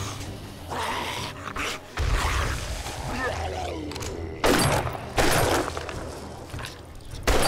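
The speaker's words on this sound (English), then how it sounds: "last pipe bomb" Pipe bombs going off during a horde night in 7 Days to Die, with heavy booming blasts that rise from a continuous din of gunfire and combat noise.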